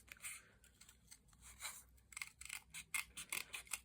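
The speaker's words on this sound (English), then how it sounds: "I'm going to trim around this little sentiment." Scissors snipping around a small paper card sentiment, a quiet close run of quick crisp cuts and rustles, irregular at first then faster and more rhythmic.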